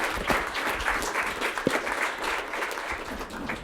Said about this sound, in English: let's give them a round of applause for being loyal supporters of 1 Million Cups.